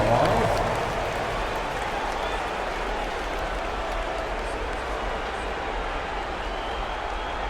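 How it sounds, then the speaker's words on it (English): A large arena crowd in the basketball video game NBA 2K25 applauds and roars in a steady, wash-like din that starts a bit louder and then holds even throughout. "big round of applause."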